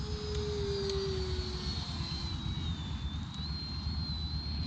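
E-Flite Viper 70mm electric ducted fan RC jet plane flying, a steady high-pitched fan whine with slowly shifting pitch over a rumbling wind-buffeted background, moderately distant.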